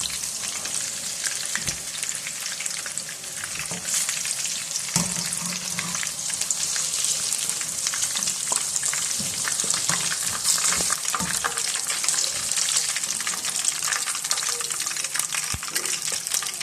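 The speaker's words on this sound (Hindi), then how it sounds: "अभी 2 से 3 मिनट हल्की आंच के ऊपर हम इसको दूसरी तरफ से पकाएंगे।" Fish frying in oil in a pan over low heat gives a steady, even sizzle and crackle that runs the whole way with no talking.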